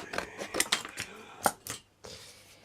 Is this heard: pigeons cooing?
no